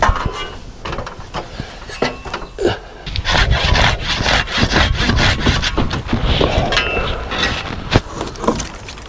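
A hand saw cutting tree branches in a garden, rapid rhythmic rasping strokes on wood, close and loud, continuing steadily without speech.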